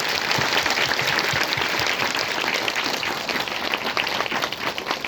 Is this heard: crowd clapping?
yes